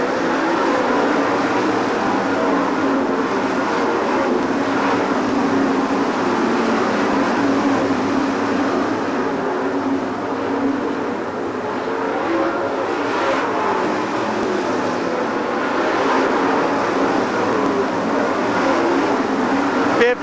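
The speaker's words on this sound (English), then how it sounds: "Still, Jimmy Mars leading Lanigan by 2 car lengths." Race cars at Farmer City Raceway during the World of Outlaws Illini 100, a continuous dense roar of engines over the whole stretch, with an announcer speaking over it.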